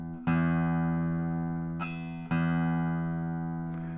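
A guitar string plucked twice while being tightened up toward E, each pluck a bright ringing tone with rich harmonics that sustains and slowly decays, with a faint slight rise in pitch, close and clear with no talking.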